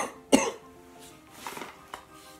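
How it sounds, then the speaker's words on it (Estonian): A woman who is sick coughs once sharply and close, followed by a couple of softer throat-clearing sounds in a quiet room. "pärast väikest köhapausi"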